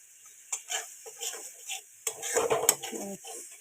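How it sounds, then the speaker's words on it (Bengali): Sour yogurt being stirred in a cooking pan for a vegetarian doi potol curry, heard as a run of soft scraping and clinking strokes from a utensil against the pan, close by and irregular, with no talk. "এটা আমি কিছুক্ষণ নাড়ব"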